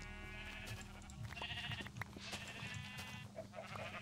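Sheep in the Minecraft video game bleat several times at a low volume over soft, sustained background tones, with no talking.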